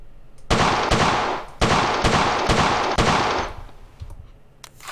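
Colt 1911 pistol fired at a shooting range in the game World of Guns: five sharp, loud shots spaced about half a second apart, then quieter tail and room noise.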